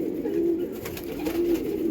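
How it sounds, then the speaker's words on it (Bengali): A male pigeon coos nearby in soft, low, repeated notes that roll on throughout. "একটা মেল পায়রা আছে"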